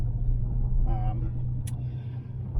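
A Rover 45 with a V6 engine idles with a steady low rumble. A brief voice comes through partway.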